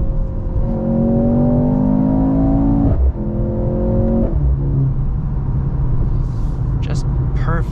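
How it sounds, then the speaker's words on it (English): A 2023 Mercedes-Benz C43 AMG with its 402-horsepower 2.0-litre turbo engine pulls hard under acceleration, the exhaust note rising steadily in pitch through two gear changes. It stays loud and close throughout, with a brief drop at each shift. "Just perfect sound from this exhaust."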